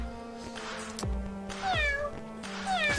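A cartoonish cat in the indie arcade game Cowboykilla lets out several rising-and-falling meows in quick succession over a steady electronic game tone and thumping beat.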